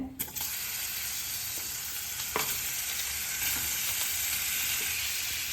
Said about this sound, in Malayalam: ഇതിലോട്ട് നമുക്ക് നമ്മൾ ചോപ്പ് ചെയ്ത് വെച്ചേക്കണ പനീർ ആഡ് ചെയ്ത് കൊടുക്കാം. ഒന്ന് ലൈറ്റായിട്ടൊന്ന് ഫ്രൈ ആക്കാൻ